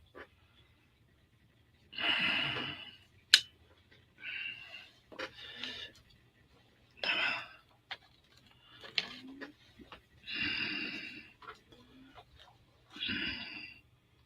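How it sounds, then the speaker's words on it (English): Dog snoring indoors in a quiet room, soft rasping breaths repeating in an irregular rhythm of about eight bursts, close and faint against near silence. "The dog snoring again."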